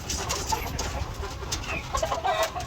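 White leghorn chickens on a farm cluck steadily in a continuous close chorus, with scattered sharper calls rising over the flock's murmur.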